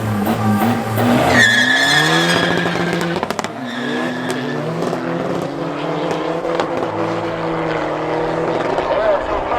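TDI diesel cars drag racing at Midway Drags Raceway, loud engine roar rising and sweeping past with a tire squeal, then sustained revving from nearby cars, with voices talking underneath.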